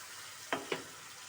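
Spice paste with cumin and green chili fries in a pan, a steady close sizzle broken by two quick spattering pops.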